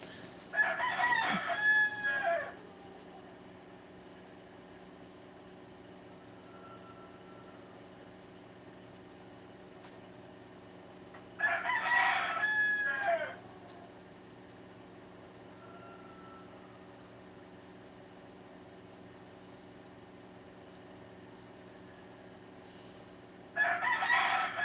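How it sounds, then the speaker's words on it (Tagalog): A rooster crows three times at night, each crow a long strained call spaced about ten seconds apart, heard a little distant over a quiet, low steady background hum. "Yun na naman yung manok."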